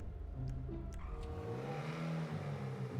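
A car engine in GTA 5 Online revs and whirs as the car pulls out, a steady mid-pitched drone rising and shifting in pitch over a few seconds with no talk.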